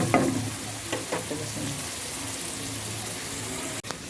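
Spice paste of garlic, turmeric, chili and coriander powder fries lightly in oil for taki fish, with a sharp sizzle and a few stirring scrapes at the start, then a steady close frying hiss.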